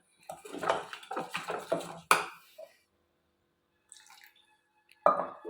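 Batter is mixed by hand in a bowl with water added bit by bit, giving bursts of wet squelching and sloshing and a clink against the bowl, then a pause before another burst.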